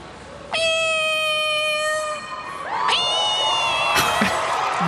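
A person imitates a cat, giving several drawn-out, high, tonal meows with sliding pitch in a studio setting. An audience or studio crowd cheers and whoops loudly over the later meows.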